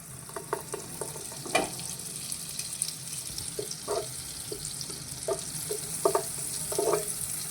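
Butter added to a hot pan for palak paneer, a soft steady sizzle with scattered clicks and taps of a utensil against the pan, fairly quiet and close.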